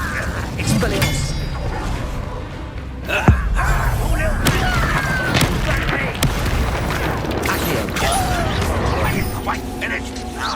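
A disarming spell fires during a Hogwarts Legacy duel amid dense game combat effects: whooshing bursts, a sharp thump about a third of the way in and rumbling impacts, with voices speaking over them.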